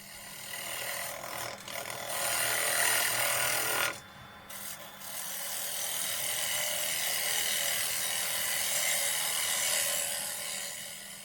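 A lathe tool takes fine finishing cuts while turning a wooden garlic keeper, giving a continuous scraping, rasping hiss with a brief break near four seconds before the cutting resumes steadily.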